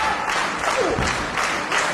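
Crowd at an independent wrestling event in 2005, clapping and cheering in a steady wash of applause, with a commentator's voice faintly underneath.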